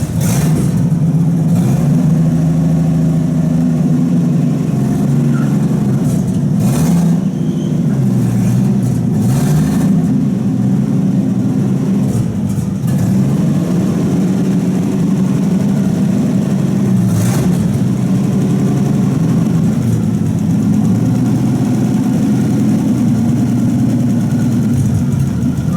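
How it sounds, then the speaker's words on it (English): A pickup truck's engine runs steadily with a loud low drone and slight fluctuations as the truck is unloaded off another truck, continuous for nearly half a minute with a few faint knocks and no voices. "he's gonna unload this truck off the truck"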